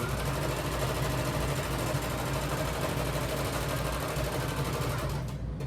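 A sewing machine stitches steadily around the edge of a tote bag, its dense, even motor whir and needle chatter running continuously and close up before stopping at the end.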